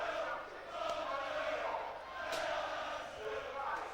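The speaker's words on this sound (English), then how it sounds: "there's a following of some 350 supporters from Mansfield who are very, very loud" Loud football crowd at a Wigan Athletic v Mansfield Town league match, with Mansfield supporters chanting in a continuous, swelling roar that rises and falls in waves across the stadium.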